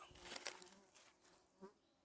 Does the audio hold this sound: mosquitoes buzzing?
yes